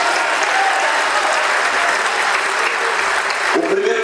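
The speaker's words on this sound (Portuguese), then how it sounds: "Vamos aplaudir o nome de Jesus" A church congregation applauds the name of Jesus with loud, dense, sustained clapping from a large crowd, and a voice begins speaking near the end.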